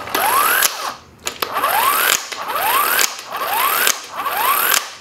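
Vevor electric impact wrench loosening car wheel nuts, giving loud, close, repeated hammering bursts with rising whine, about five bursts separated by short pauses.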